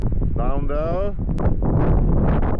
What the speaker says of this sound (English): I'm walking by the cliff. I'm very exposed to the wind here